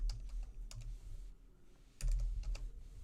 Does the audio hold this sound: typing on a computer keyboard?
yes